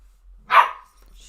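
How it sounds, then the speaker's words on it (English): A single dog bark sounds once, moderately close and clear, with quiet surroundings before and after it. "What are you barking at?"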